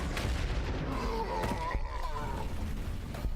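Artillery fire in the Warhammer 40,000: Gladius strategy game as Imperial Guard, with loud repeated booms and blasts under a steady dense layer of game noise and speech.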